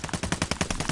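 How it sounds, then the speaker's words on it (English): Rapid gunfire in Call of Duty, a dense volley of about a dozen close, loud shots in quick irregular rhythm over roughly a second. "They shooting at me too."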